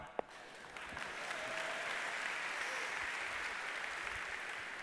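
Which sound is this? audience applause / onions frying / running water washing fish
audience applause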